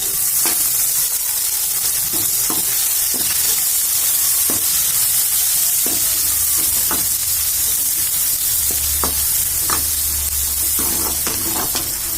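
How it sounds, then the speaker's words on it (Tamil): Onions and green chillies sauté in a pan for a dried-fish curry: a loud, constant hissing sizzle up close, punctuated by regular taps and scrapes of a spoon stirring, with no voices. "இப்போ வெங்காயம் பச்சை மிளகாய் போட்டு வதக்கிக்கணும்"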